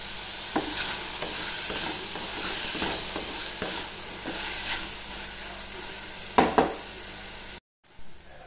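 Ridge gourd pieces with tomato frying in a pan hiss and sizzle continuously while a spatula stirs them with soft scraping strokes and a couple of louder clinks, close up and without voices.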